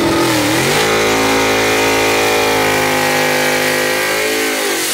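A loud gasser drag-racing car engine revs hard at London Dragway, its pitch climbing and then holding at a steady, powerful roar close by, with no voices heard.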